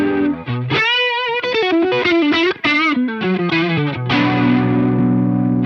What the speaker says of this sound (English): Vibrato.